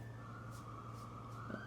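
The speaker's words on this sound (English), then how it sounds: "Oh, hear that? That's a siren." A siren wailing on the US East Coast, faint and distant, its rising sweeps repeating about every half second over a steady hum of background noise.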